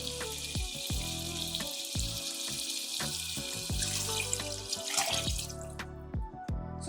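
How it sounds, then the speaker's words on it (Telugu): Water poured into a pot of cooking chicken for Bangalore-style chicken donne biryani, a steady splashing pour with sizzling from the hot pot and repeated clunks of vessels, close and fairly quiet. "ఇంకా మనం వాటర్ పోసేసుకోవచ్చు అన్నమాట."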